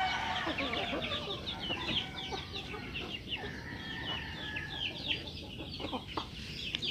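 Several chickens cluck and chatter continuously nearby, a busy overlapping flock sound at moderate volume.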